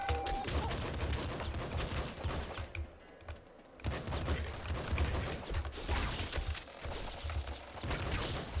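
Golden Revolver shots in the top-down shooter Nuclear Throne, a fast, dense stream of clicky gunfire with a short lull midway, mixed with game effects and low thumps.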